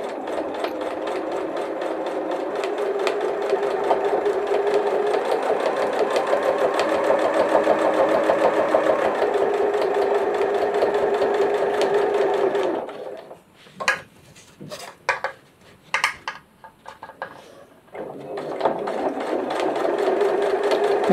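A sewing machine stitches elastic onto a fabric project case, whirring in a steady close hum for about twelve seconds, then running in short stop-start bursts before settling into another continuous run.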